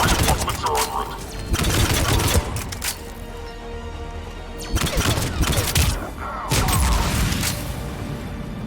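Intermittent bursts of gunfire and impacts in a Mass Effect 3 battle, loud clusters separated by quieter gaps, with radio-style voices talking throughout.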